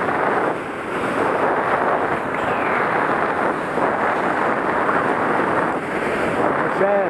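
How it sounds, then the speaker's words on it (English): Ocean surge churning through a rocky inlet at low tide, a steady broadband wash of moving water and wind that stays loud and continuous throughout, with brief swells but no pauses. "A lot of surge inside here, low tide."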